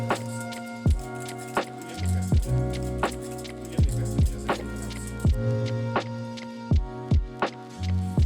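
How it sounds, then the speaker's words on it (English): A whisk clinks repeatedly against a bowl while beating an egg and cream mixture seasoned with salt, pepper and cheese for French toast, a steady series of sharp, close taps. "We whisk it well."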